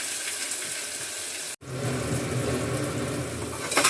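Onion and tomato sauté in hot oil with a steady, close sizzle that cuts out briefly and then returns fuller and louder, with a faint clink near the end.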